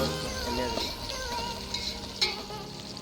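Onion and mustard seeds fry in oil in a roadside cooking setting, giving a soft, continuous sizzle with a few light stirring clicks. It is fairly quiet and no one speaks.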